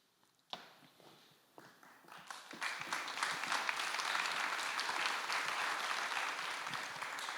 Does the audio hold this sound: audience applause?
yes